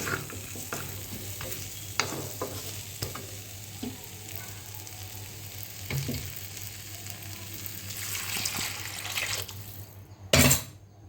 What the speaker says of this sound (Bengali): সবগুলো নেড়ে চেড়ে এবার আমি জল দেবো